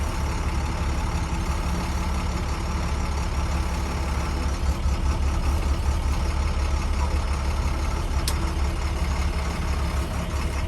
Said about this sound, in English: So now we're gonna bring the bus out.